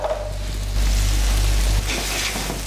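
Beetroot sauce with added vegetable broth bubbles in a pan, giving a steady close hiss and sizzle that swells briefly louder in the middle, with no talking.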